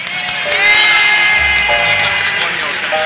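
A live kaiso show audience erupts in loud cheering, whooping and clapping, a steady close roar of voices that swells early and holds to the end.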